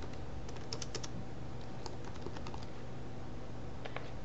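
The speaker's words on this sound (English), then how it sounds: "I'm just going to type in cookies" Keys tapped on a computer keyboard in short, uneven bursts of quick clicks over a steady low hum, close and quiet, with no talking.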